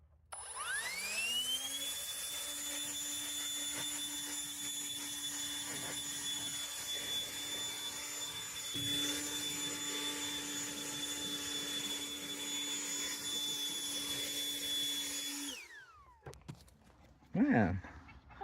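A cordless leaf blower spins up with a rising whine and holds a steady, high-pitched roar while clearing sand off a manufactured home porch, then winds down, followed by a brief voice.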